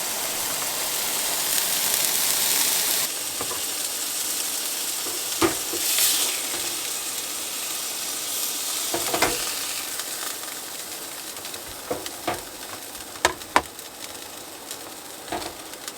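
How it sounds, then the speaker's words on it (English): Hamburgers fry in a pan at a campsite, giving a steady, loud sizzle that runs throughout with scattered sharp pops and crackles. "yo tengo hamburguesa y pan. Hamburgers and bread. Got food cooking."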